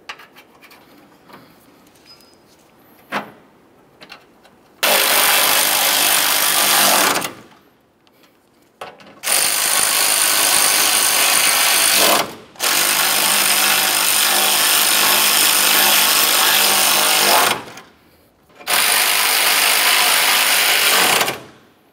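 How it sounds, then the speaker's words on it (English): Tightening radiator bracket mounting bolts on a 2004-2006 Scion xB; a few light clicks, then five loud sustained bursts of a whirring power ratchet, each lasting a few seconds with short pauses between. "Start in all of your mounting bolts and then snug them up."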